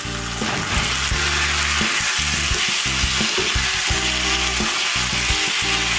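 Tomatoes and small shallots fry loudly in a pan, giving a dense, continuous sizzle close up, with stirring scrapes woven through it.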